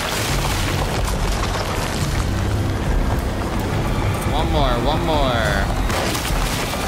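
Gunfire at growths in the video game Alone in the Dark comes as heavy, booming blasts over a dense, continuous noisy backdrop, with someone talking briefly over the action.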